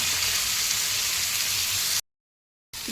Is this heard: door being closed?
no